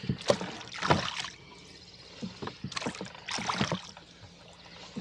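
A rowboat is rowed on the Warm Springs Arm of Lake Sonoma, with oar strokes in a steady rhythm, each one a close splash and swirl of water followed by a quiet glide.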